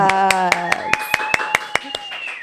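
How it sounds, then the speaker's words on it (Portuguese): Sparse, evenly spaced claps from a small podcast audience welcoming a guest doctor, sounding over a sustained tonal background, close and fairly loud. "Uma salva de palmas!"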